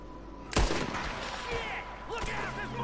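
A single loud gunshot cracks out in Red Dead Redemption 2, followed by a quieter second shot, with game voices and ambience continuing underneath.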